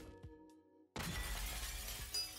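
Glass shatters in the video game Dreams, a sudden bright crash that follows a quieter stretch and leaves a dense spray of breaking fragments lingering to the end.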